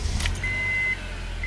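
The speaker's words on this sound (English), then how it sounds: "We can try to start the car." A car engine starts up after its dead battery was recharged with a laptop charger: a brief burst at the turn of the key, then a steady low idle rumble with a thin electronic tone above it.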